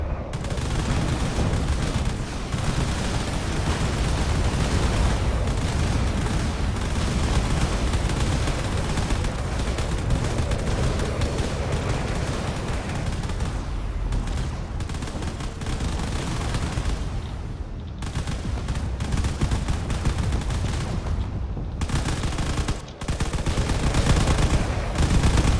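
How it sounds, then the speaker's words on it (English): A battleship blows apart in a space battle game, with dense, continuous gunfire and rumbling explosions roaring loud and steady nearly throughout, broken by a few short dips before the barrage resumes. "the entire front of the ship seems to have just completely exploded"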